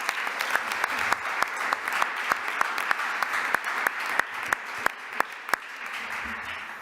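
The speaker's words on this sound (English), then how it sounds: "So let's give them a round of applause." A city council meeting audience gives a round of applause, light scattered clapping with distinct sharp individual claps standing out over a steady patter, lasting several seconds.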